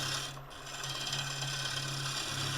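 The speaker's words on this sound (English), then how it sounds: "Just doing a nice little shear scrape there." A turning tool shear-scrapes a spinning Splitsuarina wood bowl on a lathe, a steady close rasping hiss with a brief dip near the start, heard alone without voices.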